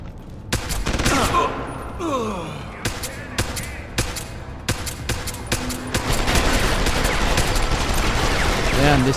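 Rapid gunfire from a first-person shooter-stealth game, Deus Ex: Human Revolution, with sharp repeated shots in bursts over busy game noise, continuing loudly throughout.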